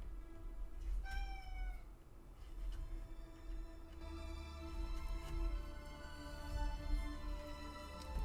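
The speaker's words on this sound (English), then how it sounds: "So those meows that you hear, just the kitties" Cats in a craft room meow several times, with a clear drawn-out meow early on and more meowing further on over a faint steady background hum.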